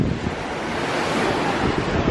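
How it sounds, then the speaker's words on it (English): Strong wind buffets the microphone in a continuous broadband roar, with a surf-like rush underneath throughout. "really windy"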